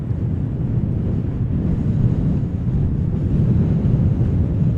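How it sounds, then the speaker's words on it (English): Wind blowing at Amsterdam Schiphol Airport, a steady low rumbling roar buffeting the microphone, continuous and fairly loud with no voices. "Wind is picking up."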